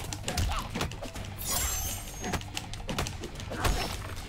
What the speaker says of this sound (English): And you might hear a lot of button smashing. Because that's what this game consists of.